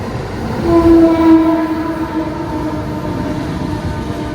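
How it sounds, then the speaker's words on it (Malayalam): An Antyodaya Express passenger train running through a station on the Madurai to Thoothukudi route, a loud, continuous close rumble of wheels and carriages with a brief horn tone early on, no voices. "ആ പോകുന്നത് അന്ത്യോദയ എക്സ്പ്രസ് ആണ്"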